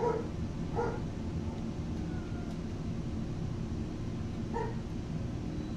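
Pet dogs bark and yip excitedly indoors a few times, slightly distant, over a steady low hum of computer game audio.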